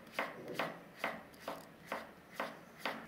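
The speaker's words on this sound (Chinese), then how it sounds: "莴笋切薄片，" A knife slices lettuce stem into thin slices on a board, seven crisp, evenly spaced chops about half a second apart, close and clear with no talk.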